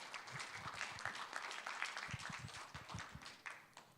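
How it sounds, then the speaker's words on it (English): Audience at a Seoul conference on digital health applauding as speakers are welcomed on stage, a faint, steady patter of many hands clapping at a distance, continuing for several seconds without a break. "let's give them a big round of applause"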